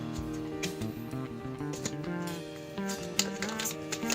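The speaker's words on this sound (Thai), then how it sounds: "อาจารย์ขอสับไพ่ก่อน การดูดวงจะต้องสับไพ่ให้ละเอียดนะคะ" Tarot cards being shuffled by hand, with quick riffling and flicking bursts set against steady tonal background music, close and fairly quiet, with no speech.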